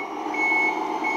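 A Tamiya RC timber truck with a 3-speed gearbox and rear two-axle drive gives a single short reversing beep tone over a faint motor hum, close and clear.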